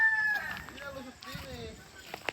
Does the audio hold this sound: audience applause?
no